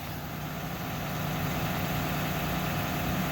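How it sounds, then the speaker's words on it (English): An RV engine idles steadily before pulling out, a low, continuous rumbling drone heard close and unchanging, with no voices. "I think I heard the air brakes, so I think he's getting ready to pull out"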